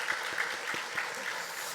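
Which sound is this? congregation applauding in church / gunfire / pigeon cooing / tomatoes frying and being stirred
congregation applauding in church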